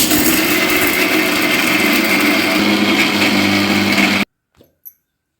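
A mixer grinder whirs loudly and continuously while grinding tomatoes for a tamarind dish, then cuts off abruptly, leaving a couple of faint knocks.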